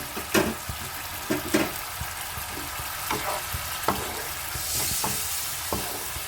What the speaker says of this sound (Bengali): এই মুহূর্তে দেখো মশলাটা কষা হচ্ছে।